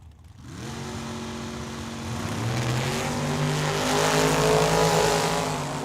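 Drag racing cars, including a Camaro, launching off the line at Tucson Dragway, engines rising sharply from idle into a loud, sustained, climbing roar.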